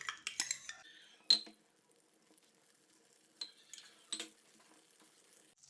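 Butter melts in a pan over a low flame. A spoon clinks and scrapes against the metal in a few scattered bursts over a faint, quiet sizzle, and no one speaks.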